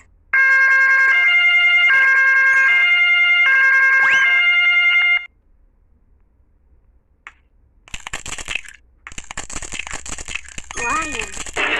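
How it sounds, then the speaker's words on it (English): An ambulance siren in a children's learning game plays as a loud two-tone wail for about five seconds, then cuts off. Quieter chimes and bright effects follow after a pause. "Ambulance."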